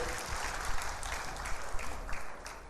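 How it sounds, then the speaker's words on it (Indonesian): A congregation applauds at a Purim celebration, a steady wash of many hands clapping, fairly distant and reverberant, with scattered louder claps rising briefly above the crowd. "boleh beri tepuk tangan untuk Tuhan"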